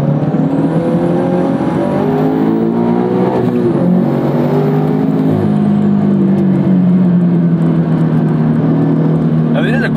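A turbocharged first-generation Subaru BRZ accelerates hard, heard from inside. Its loud, continuous engine note climbs and dips in pitch through the gears for ten seconds, with a thin high whine riding above the rumble.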